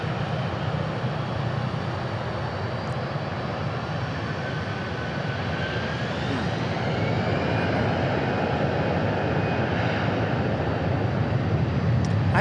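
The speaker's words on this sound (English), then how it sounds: "Alex Airside says the A380 is on the move to the gate." Airbus A380 taxiing to the gate at Dallas/Fort Worth airport, a steady broadband jet engine rumble and whine held at an even, moderate level throughout, fairly distant, with no voices.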